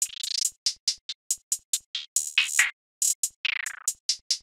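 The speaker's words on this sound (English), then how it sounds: "And then I use this hi-hat and hi-hat MIDI from my drum kit." Programmed hi-hat from a drum kit in FL Studio ticks in crisp, bright bursts, with quick rolls and pitch-swept stutters in a trap-style pattern, alone and up front.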